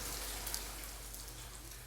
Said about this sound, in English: Oh, the rain is stopping.